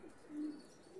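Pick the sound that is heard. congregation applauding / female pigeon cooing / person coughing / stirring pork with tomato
female pigeon cooing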